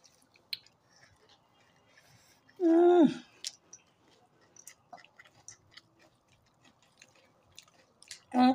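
Crunchy bites and chewing of chanabut chickpeas mixed with puffed rice, heard as two short close bursts of crunching separated by a long quiet stretch with faint clicks.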